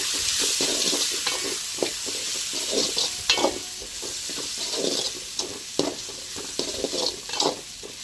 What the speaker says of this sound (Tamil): சேர்த்து நல்லா கலந்து விட்டுக்கோங்க